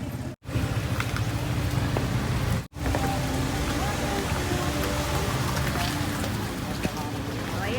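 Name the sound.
rain falling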